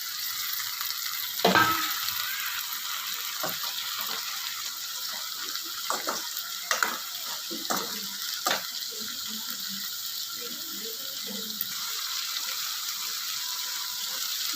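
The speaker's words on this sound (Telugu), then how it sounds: "ఆనియన్స్ ఫ్రై అయిపోయినాయి ఇప్పుడు టమాటా యాడ్ చేస్తాను" Onions and green chillies frying in a pan with tomatoes being added over a medium flame: a steady close sizzle with scattered sharp clicks and scrapes of a utensil, and no talking.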